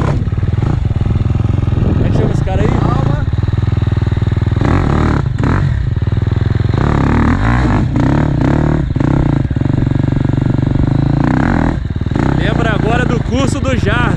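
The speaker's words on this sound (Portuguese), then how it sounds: "Essa aí é uma KTM" KTM 250 enduro motorcycle ridden at an enduro event in 2018, its engine loud and close with revving, rattling clatter and scraping over rough ground, while people talk throughout.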